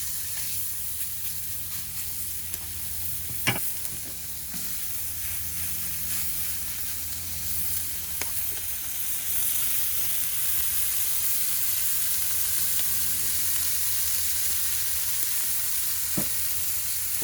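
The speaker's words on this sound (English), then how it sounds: "we're gonna put our burgers down" Burgers sizzle on a KamadoJoe griddle in avocado oil with a steady, loud, close frying hiss that holds throughout, broken by a few faint clicks and taps.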